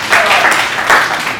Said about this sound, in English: I think we have to give him a round of applause for that one go.